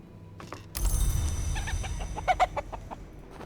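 Chickens cluck in the video game Book of Hours: a burst of clucks and short squawks from several birds, fairly close and alone, after a brief quiet opening.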